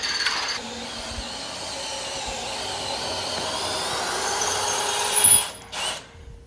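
A power drill with a white drill bit whirs steadily at moderate loudness for several seconds, then revs up briefly and cuts out near the end, during work on a Peterbilt 389 truck.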